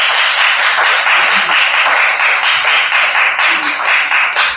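A large crowd at an afternoon changing-of-the-guard ceremony applauds the master of ceremonies, a loud, sustained wash of many hands clapping throughout without pause.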